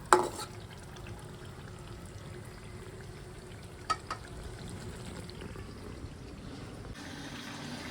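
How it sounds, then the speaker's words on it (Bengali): Chicken liver stir-frying in a pan, a faint, steady sizzle with a sharp clack at the start and a couple of light knocks midway. "কলিজা দিয়ে কলিজাটা একটু কষাই নেব"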